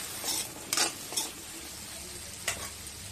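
Potatoes frying in a little oil crackle softly in a pan, with a few sharp scraping stirs of a utensil against the metal, fairly quiet and close.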